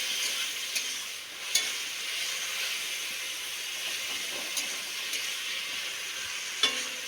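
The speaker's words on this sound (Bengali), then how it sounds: "টমেটোগুলো নাড়তে নাড়তে আলুগুলো খানিকটা সিদ্ধ হয়ে যাবে।" Tomatoes and potatoes fry in a pan with a steady, close sizzling hiss, stirred now and then with small sharp clicks of the utensil against the pan.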